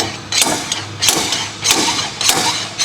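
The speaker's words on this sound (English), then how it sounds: "Hold the handle with one hand and slide the hammer outward with the other hand to strike it." A slide hammer on a CV axle puller strikes outward against an inner CV joint, four sharp metallic knocks spaced evenly about every two-thirds of a second, close and loud over a low background hum.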